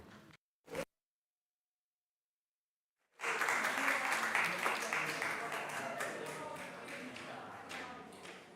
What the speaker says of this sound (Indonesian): Sekali lagi tepuk tangan untuk peserta undian nomor 1 dari sektor Pasar Kemis Cikupa.